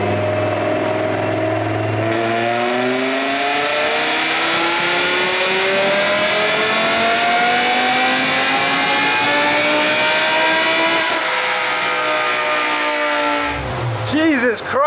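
A highly modified BMW E60 M5 engine revs hard on a dyno in fifth gear. It makes a loud, sustained climbing roar with a steadily rising pitch, then drops off near the end.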